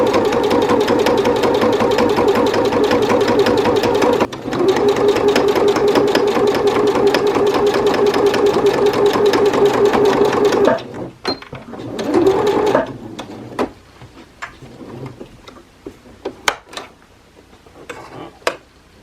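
A sewing machine runs a plain seam joining two pieces of fabric, a loud, steady rapid stitching drone for about eleven seconds with a short break, then stopping, followed by a brief restart and scattered handling clicks.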